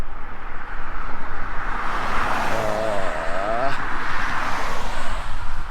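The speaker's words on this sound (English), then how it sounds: "Car coming." A car approaches and passes along a busy road while a pedestrian walks nearby, a steady, loud swell of engine and tyre noise rising and falling over constant roadway hum.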